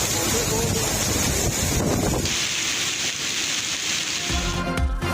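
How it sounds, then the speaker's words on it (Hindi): Strong stormy wind with rain in Lahore roars loudly and steadily against the microphone, a dense rushing gust that shifts in tone partway through, with a voice faintly present. "तूफानी किस्म की इस वक्त तेज हवा चल रही है"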